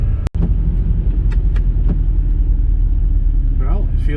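A 2004 BMW 325xi with a newly replaced rear driveshaft accelerates smoothly on pavement in second gear, its engine a steady loud rumble throughout, close to the cabin, with a voice briefly talking over it.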